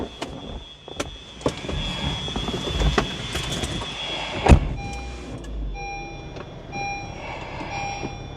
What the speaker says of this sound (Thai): กำลังขึ้นสไลด์ สไลด์แล้วนะครับ